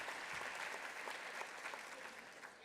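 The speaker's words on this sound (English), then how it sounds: "another round of applause for the Locust Grove High Saxophone Quartet" Applause at a school district awards ceremony honouring a high school saxophone quartet, continuous moderate clapping from a crowd that holds steadily throughout and tapers slightly at the end.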